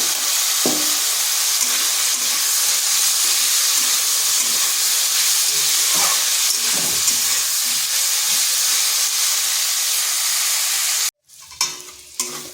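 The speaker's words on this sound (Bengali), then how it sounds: "এরপর আলু আর বরবটিটা আবার ভেজে নেব।" Potatoes and yardlong beans fry in a pan with salt and turmeric, giving a loud, steady sizzle for about eleven seconds before it cuts off abruptly, followed by a few utensil clatters.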